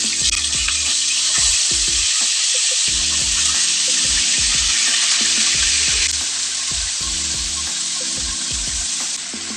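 Beef pieces for mechado sizzle and fry in a pan, a steady bright hiss with repeated scraping stirs of a spatula throughout, close and with no talk.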